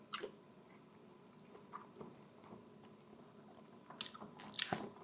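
Chewing on barbecued shrimp cooked on a Yoder YS640S pellet cooker, with soft wet squishing and biting sounds close to the mic, a few sharper smacks near the end.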